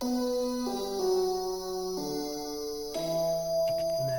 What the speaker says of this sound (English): And then layered with that is a piano as well.